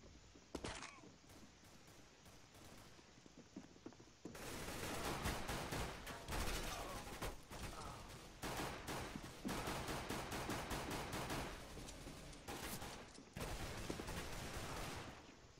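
Gunfire in Counter-Strike: Global Offensive, repeated loud sharp shots and bursts in several clusters over a steady game background, with quieter stretches between.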